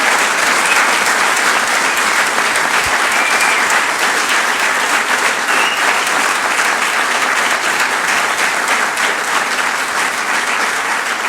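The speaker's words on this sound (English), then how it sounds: "Could we please have a huge round of applause for the inductees?" Induction-ceremony audience at the Andover Athletics Hall of Honor applauding, a loud, dense and sustained clapping from a large crowd that fills the hall evenly from start to finish.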